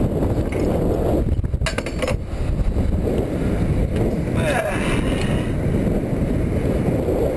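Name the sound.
wind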